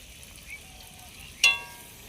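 Chili, turmeric and cumin powders sautéing in oil for a Bengali prawn and taro (chingri-kochu) masala, a soft steady sizzle with one brief louder hiss partway through.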